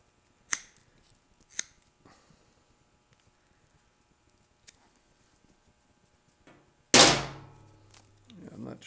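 Diagonal cutters snip the excess off a plug in a lawn and garden tractor trailer tire, giving two crisp close clicks early on and then a louder, ringing thump and clatter near the end amid quiet stretches.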